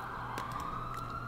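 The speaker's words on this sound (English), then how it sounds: "these sirens need to shush" Emergency sirens wail in The Sims 3 video game, a steady tone droning continuously at moderate volume with a few brief clicks over it and no talking.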